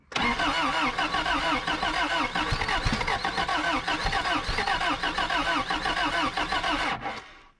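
A junkyard Chevy Luv camper engine cranks and fires, then runs rough and stumbling with uneven chugging and sputters, fairly close and loud, before cutting out abruptly near the end.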